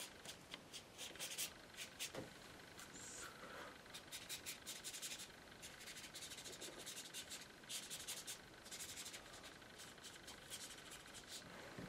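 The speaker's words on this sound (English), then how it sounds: "Good scrub with the brush." Brush scrubbing black acrylic paint onto an oak tree painting, a continuous dry rasping scrape in quick back-and-forth strokes, close and steady with no talking.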